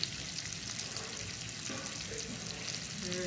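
Chicken pieces frying one by one in hot oil, a steady close hiss and crackle of sizzling that continues throughout, with faint clinks of the pan.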